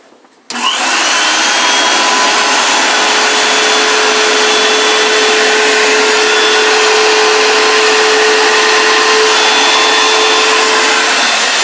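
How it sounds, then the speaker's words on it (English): Shop vacuum attached to a beveler switched on abruptly, then a loud continuous whooshing roar with a steady whine, running unchanged to the end. "You put the vacuum on."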